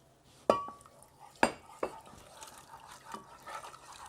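Milk is stirred into a white sauce in a pan: a few sharp utensil knocks against the pan, then quieter wet stirring, all close and fairly soft.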